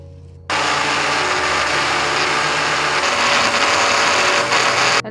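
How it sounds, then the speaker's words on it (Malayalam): Mixer grinder powdering dry avil (flattened rice) in a dry jar, a loud steady motor whir and rattle starting abruptly and running unbroken for several seconds before cutting off, no voices. "ഇനി നമുക്കിതൊന്ന് മിക്സിയിലിട്ട് പൊടിച്ചെടുക്കാം"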